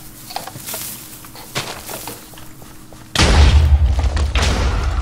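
A video game cannon fires with a sudden heavy boom partway through, its deep rumbling blast sustaining loudly after soft thuds and ambient battlefield noise.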